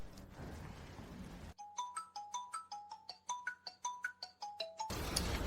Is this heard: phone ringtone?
yes